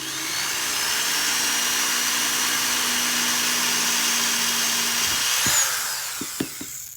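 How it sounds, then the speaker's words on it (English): A power drill drives a screw into a drawer pull, a steady whirring whine lasting about five seconds before it cuts out, followed by a few sharp knocks and clicks close by. "See what I said about drilling through? I just did that."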